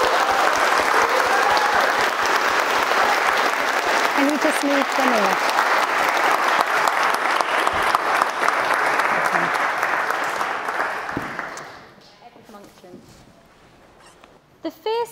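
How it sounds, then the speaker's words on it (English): Wedding guests clap after the kiss at a ceremony in Trinity College, Oxford, a sustained dense round of applause that fades out toward the end, followed by someone speaking briefly. "we can give them a clap"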